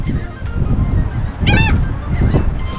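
Seagulls give harsh, honking calls nearby, with one loud call in the middle and fainter ones around it, over a busy, noisy background.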